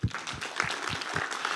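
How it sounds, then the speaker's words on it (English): An audience at a policy conference claps steadily, a sustained patter of applause heard briefly and moderately close. "we have to applaud you."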